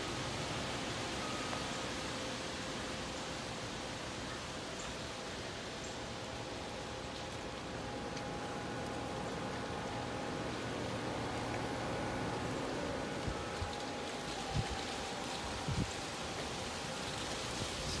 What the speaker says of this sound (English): Big raindrops falling.